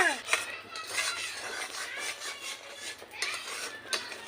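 A spoon scrapes and clinks against a pan again and again as raw mango pulp and chili powder are stirred for mango bar. The rhythmic scraping runs steadily at close range while someone talks over it.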